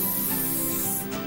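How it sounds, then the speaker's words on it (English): Bug spray hisses from an aerosol can in a steady, loud, close burst lasting about a second before a short break and a fresh puff. "Get the bug spray and kill them."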